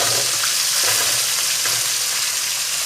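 Cumin, lentils, shallots, garlic and coconut fry in a pan with a steady, close, loud sizzle, and stirring scrapes come through at a few points.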